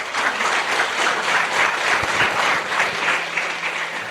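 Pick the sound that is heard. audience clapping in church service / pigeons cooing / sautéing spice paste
audience clapping in church service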